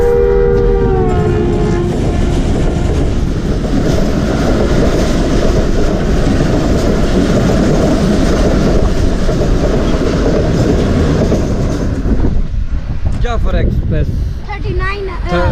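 A train pulls in at the Jhelum railway station platform with a loud, steady rumble and clatter of wagons throughout, a brief tonal horn-like note at the start, and voices emerging as the noise eases near the end.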